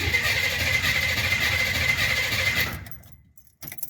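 A car engine cranks and churns steadily for a few seconds after its ignition switch wiring was redone, then cuts off briefly before a short burst of firing or rattle at the end; loud and close.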